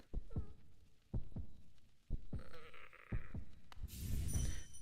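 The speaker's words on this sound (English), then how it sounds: "I don't like that this guy's heartbeat is so loud." A loud, slow heartbeat throbs in the Hollow Knight video game as paired deep thumps that repeat steadily, with other game effects swelling underneath toward the end.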